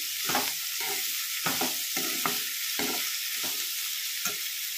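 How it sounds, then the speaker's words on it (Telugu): Capsicum pieces with salt stirred in a hot frying pan, a steady close sizzle broken by repeated scraping strokes of the spoon at an even rhythm, with no talk. "సాల్ట్ వేసినాక ఇలా కలుపుకోవాలి"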